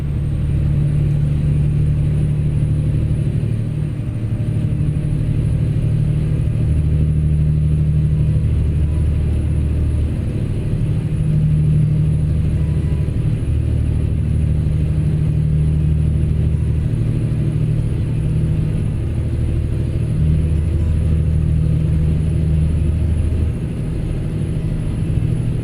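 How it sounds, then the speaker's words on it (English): A truck engine in American Truck Simulator drones steadily for the whole stretch, a constant low rumble with a faint high whine above it and no voices. "Man, I love the steady sound of this engine"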